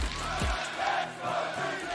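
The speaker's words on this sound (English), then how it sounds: "Fan battles. So much cheering." A crowd cheers and roars during a fan battle at a League of Legends LEC Winter esports match between Fnatic and G2, a loud, continuous swell of voices that rises and falls.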